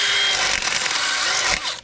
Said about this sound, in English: So get your drill out